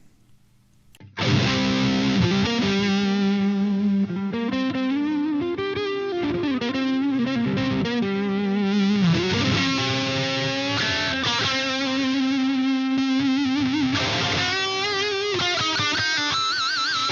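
A heavily distorted electric guitar plays through a Marshall JCM2000 TSL amplifier in a metal style, bursting in loud after a second of near silence and ringing on continuously in sustained, saturated chords and lines.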